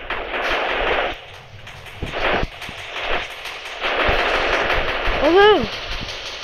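Gunfire in a war simulator video game: loud, dense bursts of rapid automatic fire and scattered single shots that keep going throughout.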